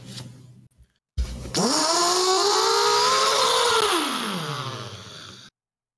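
A human voice imitates an electric drill boring into metal: one continuous, buzzing whine of about four seconds that rises, holds steady and then sags in pitch before cutting off.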